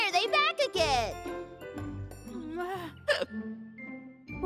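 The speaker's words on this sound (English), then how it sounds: "Maybe your hiccups will just go away on their own." A cartoon bear cub hiccups several times in quick, squeaky bursts between lines of childlike voiced dialogue. Faint tinkling sounds play in the background.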